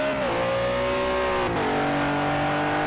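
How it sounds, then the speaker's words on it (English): Renault RS01 race car in Project Cars 2 at Imola, its engine droning steadily at high revs with a pitch drop and shift around the middle, loud and continuous with no talk. "Thought he was revving up his engine there"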